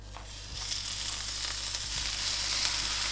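A BBQ roast chicken pizza toasty with melting cheese sizzling in a hot pan, a close, steady crackling hiss that swells slightly after the first half second and continues with faint clicks and no talk.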